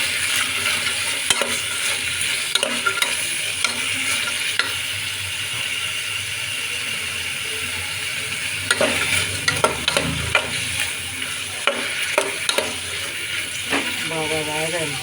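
Carrot pieces and mixed vegetables for pulav fry and sizzle steadily in a pan, with repeated spoon scrapes and stirring clinks throughout at close range.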